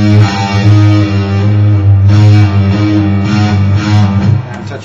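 Heavily distorted electric guitar at full volume, sustained and dense, with hammer-on notes ringing together in a loud, continuous wash with no gaps.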